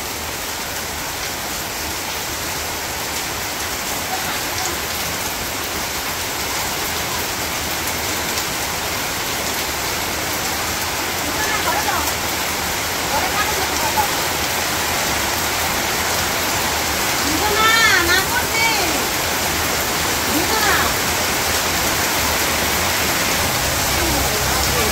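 Heavy rain pours down steadily over a village, a dense, loud hiss of drops on surfaces throughout, with a faint voice briefly rising above it near the end.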